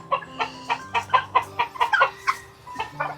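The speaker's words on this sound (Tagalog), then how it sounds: "Ay, pumasok ng manok." Chickens cluck in a run made from reused netting, a steady series of about a dozen sharp, close clucks at a brisk, slightly uneven rhythm, with no talk over them.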